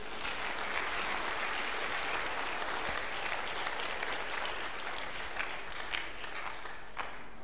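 Steady, sustained applause from a church congregation during a worship service, a full even roar of many hands clapping without pause from start to finish.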